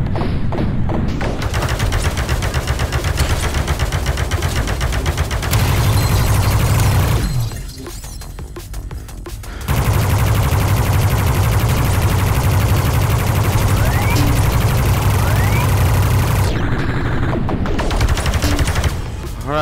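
Incoming bullets and gunfire fill the VR arcade shooter game Space Pirate Trainer, a loud, dense, continuous barrage of shots and impacts with two short lulls.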